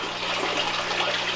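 Water trickles and splashes steadily through a koi pond trickle filter, a dense, continuous patter heard close up with no talking.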